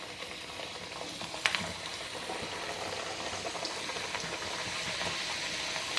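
Puris deep-frying in well-heated oil, a dense steady sizzle and crackle running the whole time with one brief sharper pop early on, close and alone without talk.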